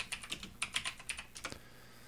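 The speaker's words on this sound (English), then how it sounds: "We do that by typing Terrascan scan." Fingers typing a command on a computer keyboard, a quick run of light, crisp key clicks in short bursts, fairly quiet and close, with no speech.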